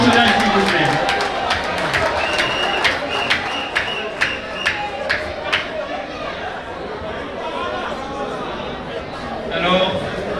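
Wedding reception guests applaud in a quick burst of sharp claps that fades, with crowd chatter and talking voices running underneath throughout.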